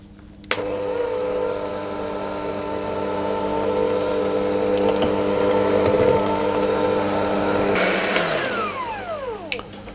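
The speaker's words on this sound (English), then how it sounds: "start mixing it on a low speed so that the icing sugar doesn't go cloud and form" An electric mixer whirs steadily on low speed as cream cheese frosting with icing sugar is beaten for a pumpkin loaf cake, a close motor drone that winds down near the end.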